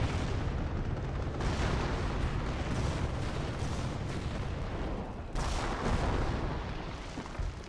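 Artillery fire in a Company of Heroes match, a dense continuous barrage of booming shell impacts and gunfire, loud and rumbling throughout with a sharp fresh burst midway.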